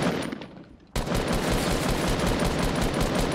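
Rapid automatic gunfire from a Fortnite match rattles out in a dense, loud burst after a brief quieter lull, continuing steadily to the end with no talk over it.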